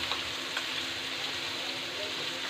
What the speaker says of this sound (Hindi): इसको चलाते हुए भूनेंगे।